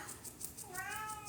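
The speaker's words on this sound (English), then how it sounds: "It just likes to meow a lot at night." A cat meows at night, one drawn-out, rising meow rising faintly above a soft, steady pulsing hum in the background.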